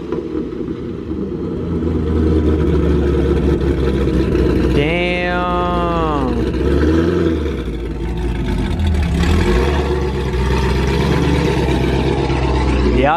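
A loud car engine at a car meet rumbles steadily throughout, with a rising and falling rev in the middle that sounds raspy and buzzy, close by.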